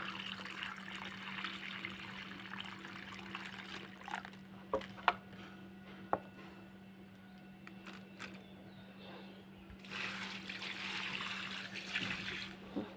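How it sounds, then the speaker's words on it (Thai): Faint trickling water from a drip irrigation system in a backyard garden, a soft steady wash with a few small clicks, swelling slightly near the end. "ระบบน้ำหยด"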